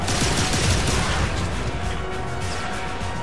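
Dense, loud bursts of gunfire from a weapon in the video game The Darkness, a rapid continuous barrage with crashing impacts that fills the whole stretch.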